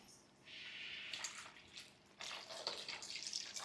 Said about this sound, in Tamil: இதில் இப்போது தேவையான அளவு தண்ணி சேர்த்துக்கோங்க